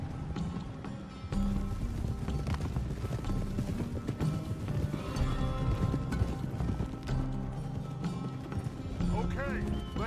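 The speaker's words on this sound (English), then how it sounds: "It looks like we get to go for a little horse ride." Horses gallop in the Red Dead Redemption 2 video game. Steady clip-clop hoofbeats run beneath game music and voices, with a brief quiet stretch at the start.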